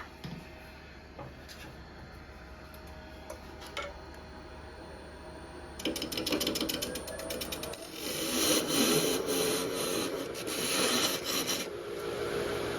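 A lathe parting tool cuts through the bottom of a spinning wood burl, giving a steady mechanical hum that turns into a louder, rough scraping rasp partway through and continues alone.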